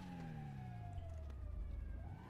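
A police siren in a GTA roleplay video game wails steadily with gliding tones over a low vehicle rumble, loud and continuous throughout.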